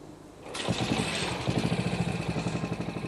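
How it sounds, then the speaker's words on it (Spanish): Classic Moto Guzzi Falcone motorcycle engine in a restoration workshop, catching after a brief hush and settling into a loud, close, steady run with the marque's deep, thudding rhythmic pulses. "Esos latidos rítmicos que se oyen por debajo son el clásico sonido sordo de las Guzzi."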